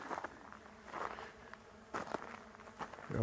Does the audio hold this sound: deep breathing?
no